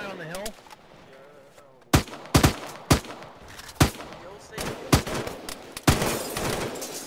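Heavy bursts of video-game gunfire crack out loud and close in irregular volleys over several seconds, with quieter ambience between the shots.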